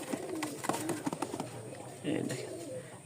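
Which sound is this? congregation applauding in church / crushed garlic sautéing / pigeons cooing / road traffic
pigeons cooing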